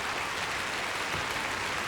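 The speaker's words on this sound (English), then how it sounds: "Got the biggest reaction from the crowd so far." A dense burst of applause and cheering rises from the arena crowd after a gymnastics routine at the 1994 Goodwill Games, loud and continuous.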